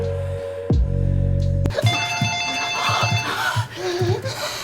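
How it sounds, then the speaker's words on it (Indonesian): A telephone rings with a bright electronic tone, repeating a few times over a hushed, tense background with faint movement. "Tiba-tiba telepon rumah berbunyi, sehingga mereka terkejut."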